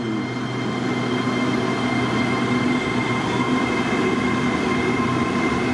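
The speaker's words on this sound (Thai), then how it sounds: "กระบวนสายสีแดงนี่จอด รับผู้โดยสารที่ วัดเสมียน นารี เตรียมออกตัวแล้วครับ" A red line diesel railcar pulls away from Wat Samian Nari station, its engine droning in a steady, loud, even rumble that holds throughout with no talk over it.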